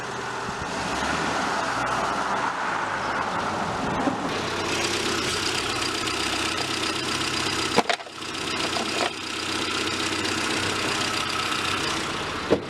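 An old Honda Civic engine, newly started after sitting about two years, runs at a steady rough idle close by, with a few brief clunks and knocks.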